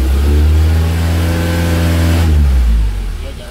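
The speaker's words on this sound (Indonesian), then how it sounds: "Coba digas pelan-pelan sampai 2500." A Honda Accord (CB7 Maestro) with a swapped engine revs up and holds around 2500 rpm, a loud close engine hum with a rising, sustained tone that drops away near the end.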